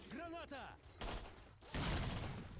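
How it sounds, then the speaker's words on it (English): In S.T.A.L.K.E.R. Shadow of Chernobyl, an allied loner fires on enemies at long range, leaving bursts of crackling gunfire that swell loud in the second half after a brief stretch of voice at the start. "my fellow loner over here is helping me shoot at these guys from long range"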